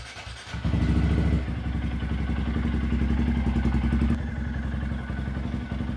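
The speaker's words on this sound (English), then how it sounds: "we'll go ahead and warm up the bike" A 2024 Honda Grom motorcycle warms up at idle, starting after a brief quiet moment and then settling into a steady, close, chugging engine rhythm that eases slightly toward the end.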